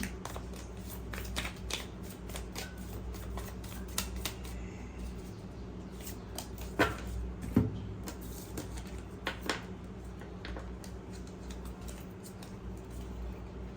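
Tarot cards are shuffled and picked by hand, soft riffling and light flicks with a few sharper snaps over a steady low room hum.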